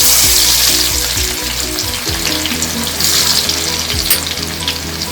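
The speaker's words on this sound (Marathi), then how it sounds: "तेल आपलं गरम झाले आहे. तर त्याच्यात लसूण टाकते फोडणीसाठी." Garlic dropped into hot oil for tempering a dried Bombay duck dish sizzles loudly and steadily, with low knocks and scraping of a pan on a gas stove, no talk.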